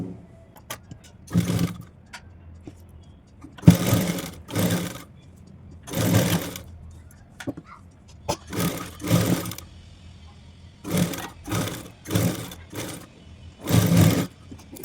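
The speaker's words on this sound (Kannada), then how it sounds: "ಡಬಲ್ ಫೋಲ್ಡ್ ಮಾಡಿಕೊಂಡು ಒಂದು ಸೈಡ್ ಸ್ಟಿಚ್ ಹಾಕೋಬೇಕು" Sewing machine stitching a double-folded side seam on a pillow cover made from old fabric, running in short close bursts with pauses between, a steady whirring hum rising and stopping repeatedly.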